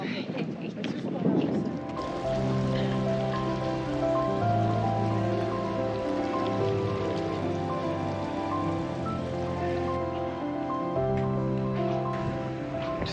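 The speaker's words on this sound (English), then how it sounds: "I think it's raining, I think." Rain falls in a narrow old street near a harbour in Croatia, a steady, soft patter with a low tonal hum held underneath.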